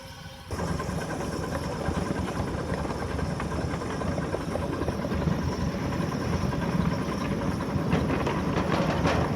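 The Folsom Valley Railway train rolls past with a dense, loud rumble and clatter of wheels on track that starts abruptly and holds steady, with no voices.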